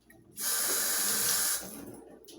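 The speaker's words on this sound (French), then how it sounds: "je me rince un peu les mains parce que j'ai touché" Hands are rinsed under a running kitchen tap, a steady splashing rush of water lasting just over a second, close by, starting and stopping abruptly.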